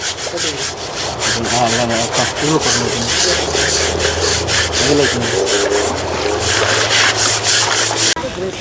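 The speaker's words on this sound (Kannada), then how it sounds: "ಪ್ರಶಾಂತ ಚೆನ್ನಾಗಿ ಸ್ನಾನ ಎಲ್ಲ ಮಾಡಿಸ್ಕೊಂಡು ಮೈಯೆಲ್ಲ ಉಜ್ಜಿಸ್ಕೊಂಡು" Loud, steady rhythmic scrubbing of a large elephant's skin with a brush during a bath before the Mysore Dasara, a rasping back-and-forth stroke repeated close up for several seconds, with faint background voices.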